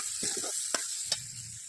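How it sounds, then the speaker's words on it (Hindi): Dal with tomatoes is tempered in hot oil, a quiet steady sizzle marked by two sharp spoon scrapes in quick succession. "अब मैं सब्जी बघा रही हूँ, दाल मतलब"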